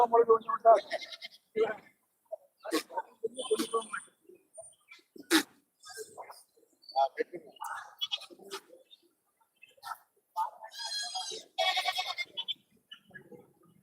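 Goats at the Arumuganeri goat market give scattered bleats amid lively chatter and crowd noise, with a strong, close bleat standing out near the end.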